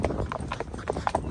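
A saddled horse walks with its hooves clip-clopping in a steady, close rhythm, and faint voices sound in the background.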